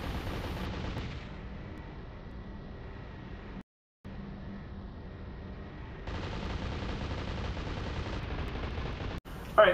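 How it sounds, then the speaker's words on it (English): Player gunfire in the robot shooter Metal Arms: Glitch in the System, a steady, fairly quiet stream of rapid shots forming a continuous noisy rattle that breaks off briefly, then resumes a little louder. "I'm just gonna keep shooting"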